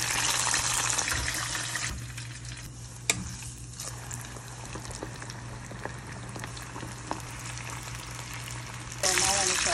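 Chicken pieces frying for crispy fried chicken give a steady loud sizzle of hot oil, with a softer stretch in the middle, a few sharp pops and clinks, and a louder surge near the end.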